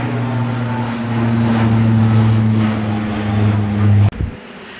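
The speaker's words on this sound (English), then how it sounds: "having a plane that low to us is not normal" A loud, low droning airplane engine rumble holds steady as the plane flies low overhead, then ends abruptly with a sharp knock.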